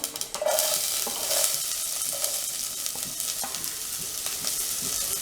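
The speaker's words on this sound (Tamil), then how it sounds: "கடுகு பொரிய ஆரம்பிச்சிருச்சு" Mustard seeds popping in hot oil with urad dal while cooking a carrot thoran: a loud, close, continuous sizzle with sharp crackles and scattered pops throughout.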